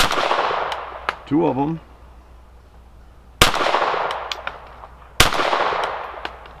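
Pistol shots at an outdoor range from a Sig P322 and a Taurus TX22, two sharp, loud reports spaced apart, with a brief bit of talk before them.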